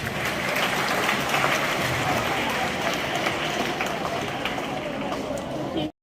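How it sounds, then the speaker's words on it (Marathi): A school crowd at a district-level science exhibition in Nandurbar gives loud, dense, continuous clapping to welcome a guest, with crowd noise and voices mixed in until it cuts off at the end. "सरांचं स्वागत करण्यासाठी आपण एकदा जोरात टाळ्या वाजवायच्या"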